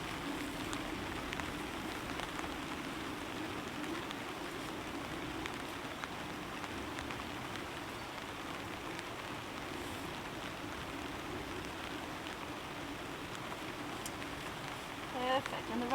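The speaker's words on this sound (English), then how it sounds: "the rain is not coming in here, which is great" Heavy rain falls on a camping tent, a steady, faint patter of drops that holds evenly throughout.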